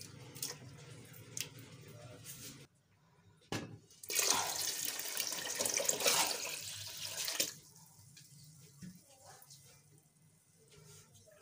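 Milk poured into a cooking pot of mashed rice and carrots for gajrela, a rushing liquid stream lasting a few seconds amid quieter kitchen sounds and drips.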